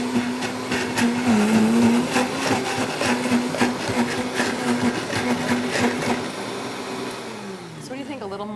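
Vitamix blender whirring as it mixes oil and cheese, a loud, steady motor roar with a shifting pitch before winding down near the end, while people talk over it.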